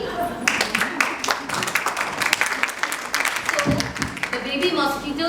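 An audience at an education summit keynote claps steadily and fairly loudly for several seconds, with voices mixed in over the applause.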